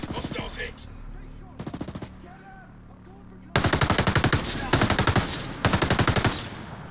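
Automatic gunfire in the shooter game Ghost Recon Breakpoint comes in loud rapid bursts, a short one early and then three long sustained volleys, close and dominant, with a voice speaking between bursts.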